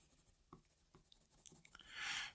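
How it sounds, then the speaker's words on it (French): A pen scratches across a paper Cartographers game sheet, with soft irregular strokes of hatching and a short burst of denser colouring scratches near the end, quiet and close. "hachurer pour montrer que c'est une ferme et colorier en jaune"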